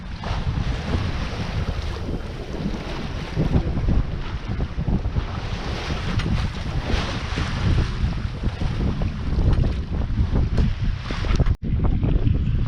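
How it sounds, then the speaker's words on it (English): Sailboat under way in steady wind approaching Hudiksvall, with constant wind buffeting the microphone and water rushing along the hull at about four knots, loud and continuous with no talking. "Now we are sailing into Hudiksvall."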